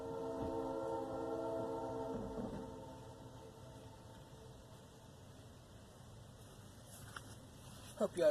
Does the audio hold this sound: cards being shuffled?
no